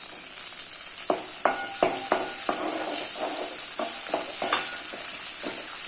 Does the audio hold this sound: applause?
no